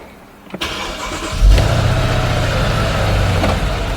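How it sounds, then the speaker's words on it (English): Mercedes GL450 SUV engine cranking and catching, then settling into a steady idle heard close up with no talk. "As you can hear, the engine is running."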